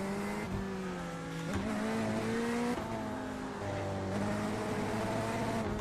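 Simulated GT3 race car engine in iRacing, loud and close, revving up through gears with sharp pitch climbs and drops at each shift, alone without talk.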